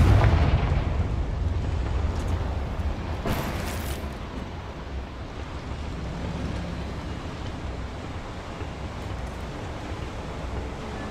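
Confringo fire spell blast in Hogwarts Legacy, a loud booming explosion with a bright burst partway through, followed by sustained rumbling fire and debris noise, no voices.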